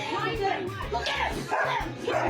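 A dog barks in a few quick bursts amid a tense outdoor confrontation, loud and close, tangled with agitated voices talking over it.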